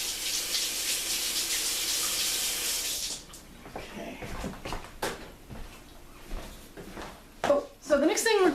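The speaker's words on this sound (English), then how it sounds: "I'm going to rinse off this one spoon." A spoon is rinsed under a running kitchen tap, a loud steady gush for about three seconds that then stops, followed by clinks, knocks and handling noises.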